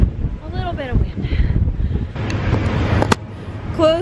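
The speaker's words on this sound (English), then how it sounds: "Just a little bit of wind." Strong wind gusting across the open deck of a Disney cruise ship, steady roaring buffet against the microphone with voices and brief sharp sounds over it.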